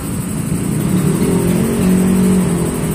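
Honda Vario/PCX 160cc scooter engine fitted with a downdraft throttle body after a tune-up: a loud, steady close-up engine drone that swells slightly in pitch as the throttle opens, with no talking.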